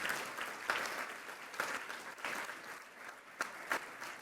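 Scattered audience applause at a congressional conference, uneven and fairly quiet, with loose claps rising and falling.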